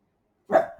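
A dog barks once nearby during a physics lesson at home, a single sharp bark that tails off quickly after a silent start.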